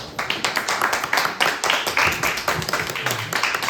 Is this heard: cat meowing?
no